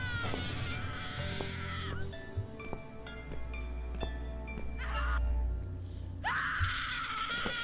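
High, strained screams in a horror game, one at the start and another near the end, with scattered thuds and a low drone in between.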